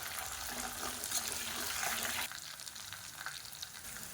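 Small whole onions and about ten large garlic cloves fry in oil for Tamil vatha kulambu, a steady broadband sizzle that drops slightly partway through, with faint stirring and no talk.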